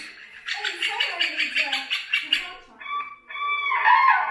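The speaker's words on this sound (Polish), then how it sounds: "A tu są odgłosy ptaków" Birds call in a rapid, chattering series of high clucking notes, followed by a few clearer whistled calls, close and fairly loud.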